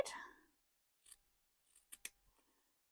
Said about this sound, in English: And we are cutting through all layers here.